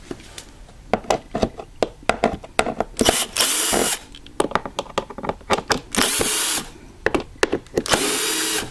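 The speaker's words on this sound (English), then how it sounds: "to get this out, we need these 5 screws to be removed." Power drill backing screws out of a Challenge lawnmower cover, several short loud whirring bursts with clicks and handling knocks between them, close by.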